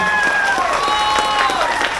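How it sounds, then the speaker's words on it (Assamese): A steady wash of clapping from a crowd fills the whole stretch, with a sustained tone lingering over it. "আচলতে হাত চাপৰিটো অকণমান জোৰদাৰ হ'লে ভাল হয়"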